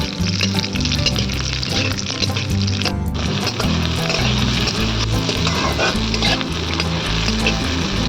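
Onion sizzles and crackles in hot mustard oil for a Bengali cauliflower roast, loud and close, with stirring scrapes and a steady busy frying hiss throughout.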